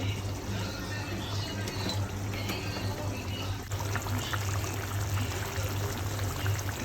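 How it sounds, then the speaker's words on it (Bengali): A steady hissing, sizzling pour runs throughout as oil hits a hot wok, with a low hum underneath and no clear voices. "কড়াই দিয়ে দিছি গরমে গেছি তেল দিতেছি"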